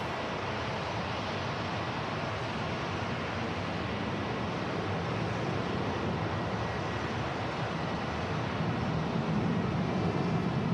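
A departing airliner roars down the runway at Manchester Airport, a steady broadband jet rumble that holds loud and even throughout, swelling slightly toward the end.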